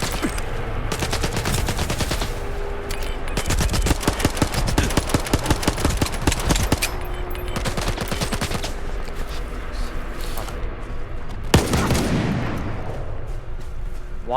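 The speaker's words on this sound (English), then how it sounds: "Why are you shooting me?" Rapid bursts of automatic gunfire and single shots from the video game S.T.A.L.K.E.R. 2: Heart of Chornobyl, loud and near, repeating through most of the stretch with a sharp blast near the end, with faint speech in places.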